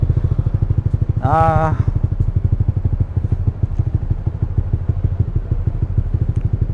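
A remapped motorcycle engine held against its rev limiter, a loud rapid pulsing stutter close by, with one brief rising whine partway through.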